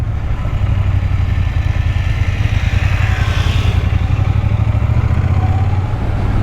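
A motorcycle rumbling steadily over a dirt patch on a desert road ride near Jaisalmer, its engine thrumming loud and close with a constant low throb and rushing wind.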